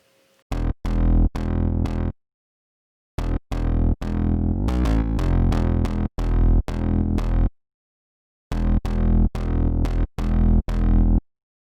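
An aggressive distorted synth bass patch from the Pigments VST plays in choppy bursts of gritty stabs, broken by short silences, with a wobbling middle phrase, loud and close and free of speech.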